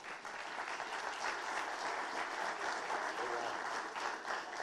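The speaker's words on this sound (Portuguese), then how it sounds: "Uma salva de palmas" A conference audience gives steady applause as a retail innovation director is called to the stage, a soft, continuous patter of many hands heard from a distance at low level.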